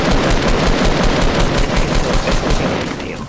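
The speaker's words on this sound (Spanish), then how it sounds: "a ver si van a oír los rivales, los disparos" Rapid automatic gunfire in Fortnite Battle Royale, a loud dense burst of shots firing continuously for a few seconds, close and unbroken.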